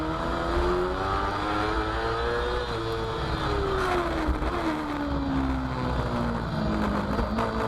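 British F2 racing sidecar engines at Croft circuit, with a loud, close high-revving engine whine that rises and falls steadily through gear changes as the outfit laps the complex, other engines droning underneath.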